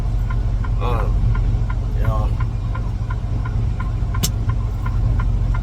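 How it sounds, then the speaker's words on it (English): A truck engine idles with a steady low throbbing hum that runs through the whole stretch, loud and close, while a person speaks briefly over it. "Crank up the idle real quick so the truck quit leaving."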